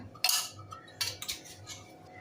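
A spoon clinks against a pan as ghee is added while making podi idli masala, a South Indian gunpowder spice mix, with a few sharp metallic taps up close over a quiet background.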